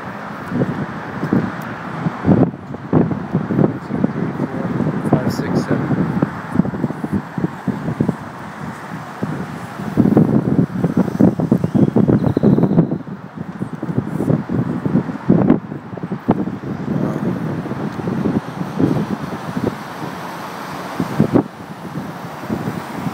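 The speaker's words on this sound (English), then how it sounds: "it's quite windy out here" Strong gusts of wind buffet the microphone outdoors at a street protest, with rushing, uneven roaring bursts and a faint background of passing traffic.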